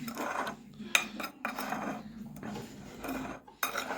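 A spoon stirs semolina, cinnamon and sugar together in a bowl for a Hijaziya filling, making rhythmic scraping and clinking strokes, fairly close and moderately quiet.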